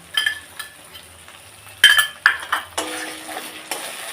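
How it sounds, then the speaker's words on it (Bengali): Spice paste and water go into a pan for Bengali daab chingri, with a few sharp metal clinks of a utensil against the pan, then a rising sizzle and hiss as the liquid hits the hot oil. "মশলার বাটিটা দিয়ে জলটা দিয়ে দেবো।"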